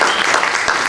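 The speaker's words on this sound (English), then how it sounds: "Give them a round of applause," An audience at a multiple sclerosis community event in West Palm Beach gives a brief, loud burst of applause for the evening's sponsors, dense clapping filling the room for under a second.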